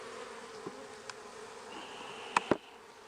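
Honey bees buzz steadily around an open hive box during spring splits, a soft continuous drone with a few individual bees zipping closer past the microphone near the end.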